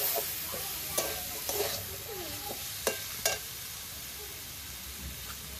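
Vegetable chop frying in a pan in a home kitchen, with steady close sizzling and a few sharp scraping stirs of a spatula, no talk.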